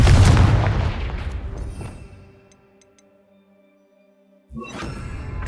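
A Confringo blasting curse in Hogwarts Legacy erupts as a loud, booming explosion that rumbles and decays over a couple of seconds, followed by a faint magical shimmer and a second heavy impact starting at the end.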